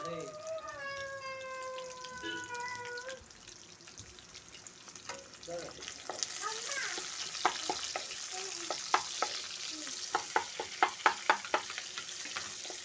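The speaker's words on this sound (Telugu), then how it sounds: "ఇప్పుడైతే ఆనియన్ వేసుకుందాం" Onions are tipped into hot oil in a pan and stirred, giving a rising sizzle with a run of sharp scraping and tapping strokes; a cat meows repeatedly at the start.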